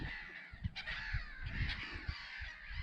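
Many agitated birds call in alarm around their nests, a chorus of harsh, repeated caws overlapping at varying distances, loud and continuous with no talking.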